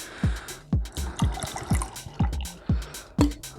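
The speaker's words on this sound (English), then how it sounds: "I'm gonna go ahead and top up here." Double IPA beer glugs into a glass in a run of rhythmic, bubbling pulses as the glass is topped up, moderately close and without speech.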